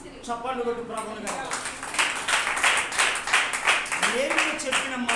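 A congregation claps during a Sunday church service, a rhythmic run of sharp, evenly spaced handclaps in the middle, with a voice speaking or singing before and after the clapping.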